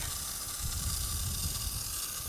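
A dial-type garden hose sprayer sends out a steady, close, broad hiss of water spray that holds evenly for a couple of seconds with no talking.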